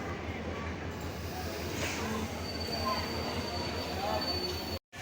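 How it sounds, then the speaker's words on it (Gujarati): Surendranagar–Bhavnagar passenger train at a station, continuous rolling rumble of wagons with a faint thin wheel squeal running through, background chatter, ending in a brief dropout. "સુરેન્દ્રનગર ભાવનગર ટ્રેન આવી ગઈ છે મિત્રો"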